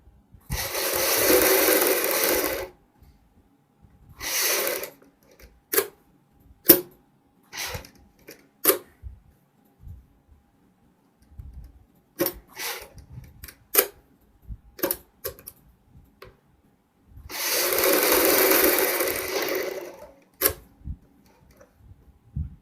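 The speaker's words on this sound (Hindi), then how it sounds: "इस तरीके से हमने सिलाई लगा लेनी है बुकरम के साथ साथ में।" Sewing machine stitching a shirt collar together with buckram: two long runs of motor-driven stitching at the start and end, with scattered sharp clicks and brief bursts between them, close up and without voices.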